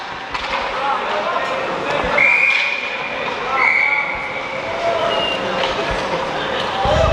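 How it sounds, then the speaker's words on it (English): Two short referee whistle blasts sound during a college club ice hockey game between WWU and WSU, called for icing, ringing out over steady arena crowd noise and rink ambience. "That goes for icing. We get a whistle."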